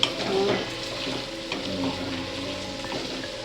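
Partly boiled potatoes cooking in oil in a pan for sabudana khichdi give a continuous, fairly loud sizzle with light stirring throughout and no talk.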